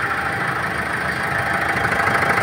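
A 2015 Mitsubishi Pajero engine idles steadily while warming up after intake manifold cleaning, a constant close mechanical hum with a slight knocking texture and no talk over it.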